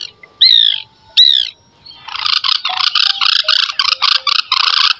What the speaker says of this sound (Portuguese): Uma delas é o pica-pau branco, muito chamado também de birro.